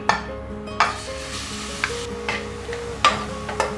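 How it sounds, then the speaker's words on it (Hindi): Grated bottle gourd roasting in a spoonful of ghee in a hot pan, a soft steady sizzle broken by several sharp spatula scrapes and knocks against the pan, close up. "अब हम लौकी थोड़ा भून लेंगे"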